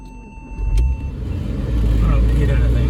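A 1997 Porsche Boxster 986 engine starts and settles into a steady running rumble, growing louder after a brief crank, with people talking inside the car.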